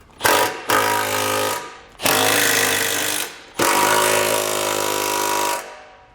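Hitch bolts being tightened on a 2014 Ford Explorer during a trailer hitch receiver installation, with an impact or power tool buzzing loudly and closely in three long bursts and a short one.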